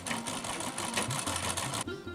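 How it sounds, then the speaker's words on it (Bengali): A sewing machine stitches two pieces of cloth together, a fast, even, close rattle of needle strokes that runs continuously and then stops just before the end. "প্রথমে এই দুটো কাপড়কে আমি একসঙ্গে রেখে সেলাই করব।"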